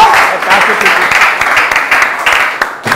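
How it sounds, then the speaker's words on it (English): A studio audience at a quiz game show claps in a loud, dense and steady round of applause that lasts throughout, with a host's voice talking over it. "Ladies and gentlemen, give her a round of applause."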